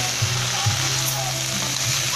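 Clams and string beans sizzle steadily in a hot pan, a dense continuous frying hiss with soft stirring bumps at a few points, close and fairly loud, no voices.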